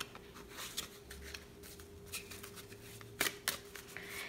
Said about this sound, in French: On va brasser toutes les cartes ensemble